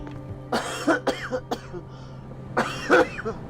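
Several harsh coughs in two bursts, a cluster of hacking coughs followed by a pause and another short fit, close and fairly loud.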